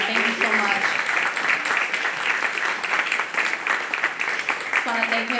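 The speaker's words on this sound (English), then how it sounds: "Another round of applause, please, for Yerko." An audience applauds a performer at a disability awareness evening, a sustained wash of clapping with a few voices and faint tonal sounds mixed in near the start and end.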